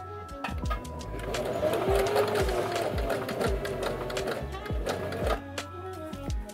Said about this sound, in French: vous venez appuyer sur la pédale pour venir faire 8 à 10 points de couture